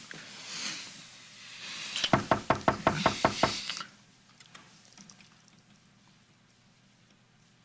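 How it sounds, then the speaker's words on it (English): A rapid run of about nine firm knocks on a door, fairly close and loud, in an indoor soap-opera scene, surrounded by quiet room tone with faint sounds before and after. "Did you hear that knocking?"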